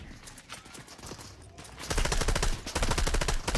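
Bursts of rapid, loud gunfire from a bone spear shotgun, a Halloween weapon in the Fortnite video game, crackle in a dense run, with quieter game sounds and scattered shots before.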